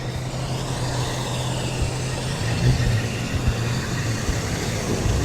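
A Ford Sierra Cosworth rolls into a classic car show at Capesthorne Hall with a steady, close engine rumble that swells slightly midway as it passes.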